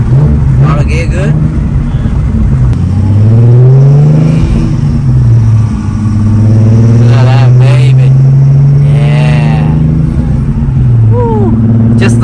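Nissan 370Z on a test drive after a no-start fault, engine revving up and easing off through gear changes, loud and close, with people talking over it.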